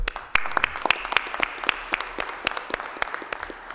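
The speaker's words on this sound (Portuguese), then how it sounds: "E nós aqui da mesa aplaudimos." Audience applause fills a solemn medal ceremony session in a legislative chamber: steady, moderately close clapping from many hands, continuous throughout with slightly thinning toward the end.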